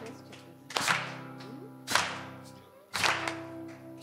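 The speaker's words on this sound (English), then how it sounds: "All right, keep the clapping going." A church congregation claps at a prayer meeting, with three sharp, loud bursts of clapping spaced about a second apart over a steady sustained musical tone, with no talk.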